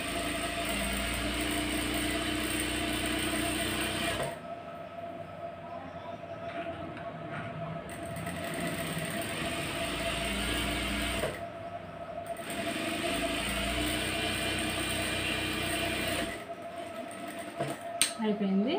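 Sewing machine stitching a shape belt on a garment, a steady close mechanical whir running in long stretches, broken by two brief stops before a final short burst, with a voice talking over it.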